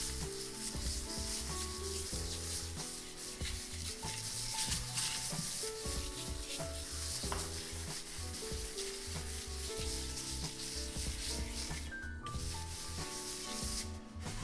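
A trowel spreads PERSIA decorative plaster material with continuous close scraping and rubbing strokes, steady and moderately loud under faint background music.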